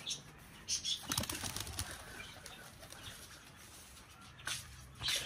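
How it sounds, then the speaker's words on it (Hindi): Pigeons flap their wings in short bursts on a rooftop among other household birds, the flutters coming in a few brief clusters over a faint background hum. "किस किस के कबूतर आ गए हैं ऊपर"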